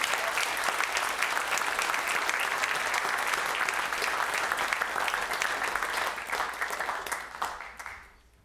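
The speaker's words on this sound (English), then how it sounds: "Give them a round of applause" Loud, steady applause from a large church congregation, many hands clapping together for several seconds before it fades out.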